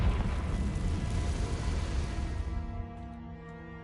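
A Confringo fire spell cast in Hogwarts Legacy: a roaring fiery blast that rumbles for a couple of seconds, then thins into a ringing, shimmering tail that fades out, with no speech.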